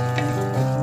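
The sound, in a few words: urad dal frying in oil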